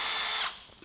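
A brand-new Wiha SpeedE II electric screwdriver runs with a high whirring buzz, then stops abruptly and leaves a couple of faint clicks.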